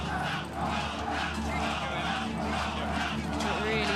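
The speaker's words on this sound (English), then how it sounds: "the French fans pack out the stadium in front of the podium and chant the name" French biathlon fans chanting in a packed stadium in front of the podium at the 2025 World Championships in Lenzerheide, a broad rhythmic crowd roar heard at a distance beneath steady commentary.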